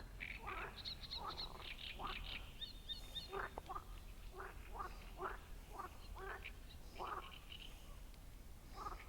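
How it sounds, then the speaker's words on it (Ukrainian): Several frogs croak in a repeated, uneven chorus of short calls, with faint chirps above them, heard from a distance over a low background rumble. "жаби квакають."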